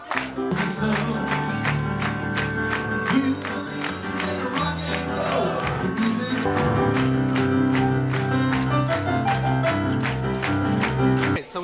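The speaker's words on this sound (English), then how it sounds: "Clap your hands. Clap, clap, clap, clap." An audience aboard the cruise ship Icon of the Seas claps along to Happy Birthday at a dueling-pianos venue, sharp even claps keeping a steady beat under singing and piano for the full stretch.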